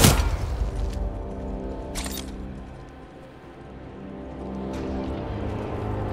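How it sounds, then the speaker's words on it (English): A frag grenade detonates in the Titanfall 2 campaign: a sharp, loud blast at the start with a broad rumbling decay, followed by further bursts and mechanical clatter in the game mix. "Incoming frag! Watch yourself!"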